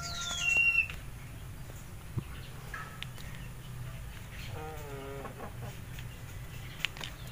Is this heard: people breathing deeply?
no